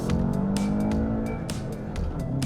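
Engine of a 2019 VW Jetta GLI under way, a steady low drone with artificially enhanced sound, heard from inside the cabin with sharp intermittent ticks and taps over it.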